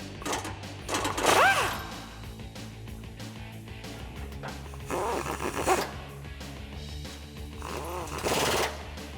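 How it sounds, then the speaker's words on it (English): Ratchet clicks with a 10mm socket loosen two exhaust bolts on a 2011-2014 Ford F150 3.5L Ecoboost during an exhaust swap, heard as three loud bursts of rapid ratcheting with quieter handling sounds between them. "It's a 10mm socket to get those 2 bolts out."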